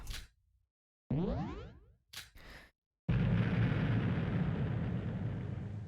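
Explosion rumbling through a cruise ship in the Super Danganronpa Another 2 video game: after a quiet stretch with a few swooshing game effects, a loud, sustained low roar sets in and keeps rumbling to the end.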